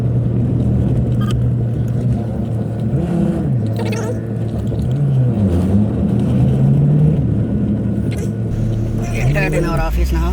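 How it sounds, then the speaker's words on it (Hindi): A Tata Safari's engine idles nearby, a steady low hum with slight rises and dips in revs, while someone talks over it throughout. "I kept the engine on to test Graphinizer 2."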